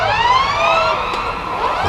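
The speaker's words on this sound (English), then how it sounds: "Anna was greeted by the screams of sirens." Sirens wail across a city in the World War I game Valiant Hearts: The Great War, several rising and falling tones overlapping in a loud, steady chorus with no voices.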